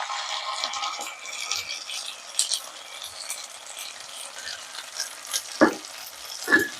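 Potatoes coated in cashew and poppy seed paste being stirred in a pan for aloo posto: soft scraping and light sizzle, with a few sharper spatula knocks near the end, close and without speech.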